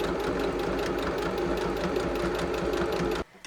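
A sewing machine runs steadily at slow speed, stitching binding along a blouse neckline, its even mechanical whir holding for about three seconds before it stops abruptly.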